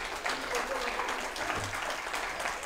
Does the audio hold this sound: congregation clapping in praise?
yes